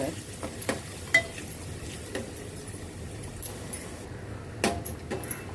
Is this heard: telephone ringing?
no